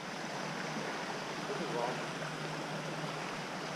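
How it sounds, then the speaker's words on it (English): A muddy river swollen after a thunderstorm rushes steadily along a mountain bike trail, a broad continuous wash of flowing water close by with no clear breaks. "It's the river."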